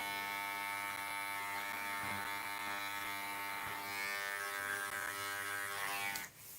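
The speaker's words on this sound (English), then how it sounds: "I'm just working straight down with the trimmer." An electric hair trimmer trims a man's sideburn, a close, steady buzzing hum that runs continuously before cutting off abruptly near the end.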